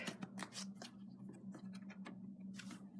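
Soft, quick riffling and pattering of an oracle card deck being shuffled, quiet and close, in short bursts with no talking.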